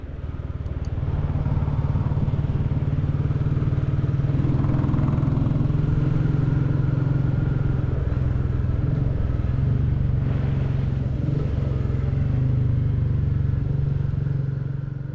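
A Royal Enfield Classic 350 motorcycle rides along a country road near a monastery, its single-cylinder engine thumping steadily and loudly throughout, with a low, even drone and faint clatter and no talking.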